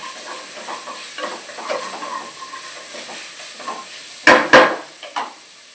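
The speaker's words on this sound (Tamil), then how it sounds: "இந்த டைம் நம்ம வந்து இதில் வந்து தக்காளியை சேர்த்துக்கலாம். இது நல்லா வதங்கட்டும்." Tomatoes sautéing in a pan with onion, green chili, ginger and garlic give a soft sizzle under intermittent stirring scrapes, with a couple of sharper clatters near the end.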